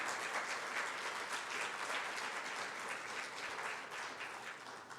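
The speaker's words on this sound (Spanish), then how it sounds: "Denle una ofrenda de palmas a nuestro Señor." A church congregation gives steady, dense applause as an offering of praise during a Spanish-language worship service, continuous throughout and fading slightly near the end.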